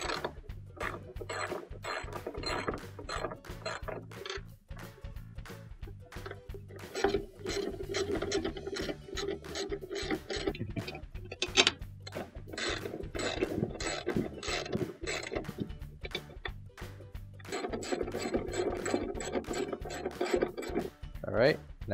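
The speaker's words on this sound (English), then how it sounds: "Now we'll secure the legs back on, and using our 1/2 inch socket," Ratcheting of a 1/2 inch socket wrench tightening bolts that hold the legs back onto a washing machine during a tub bearing replacement; repeated close clicking and rasping strokes run steadily throughout, with brief pauses, no talk.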